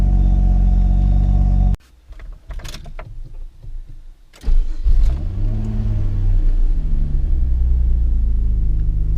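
A car engine idles after a vacuum leak repair, its steady low hum breaking off into a couple of seconds of clicks and mechanical rattles, then returning loud and close as a settled, even drone.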